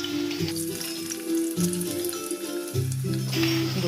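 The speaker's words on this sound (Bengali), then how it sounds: "আলুগুলো ভালো করে ভাজা করে নিয়ে" Potatoes frying in hot oil in a pan, a dense continuous sizzle up close with a few stirring knocks, no voices.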